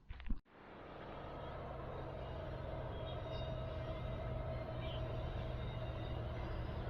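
A faint, steady low rumble of a train far off across open country near a dam campsite, continuous and distant after a brief knock at the start.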